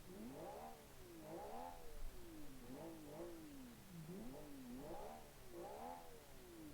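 A naturally aspirated V6 Black Panther rally car in a video game revs up and down in repeated swells as it drives, a fairly faint, quiet engine tone with no talk over it.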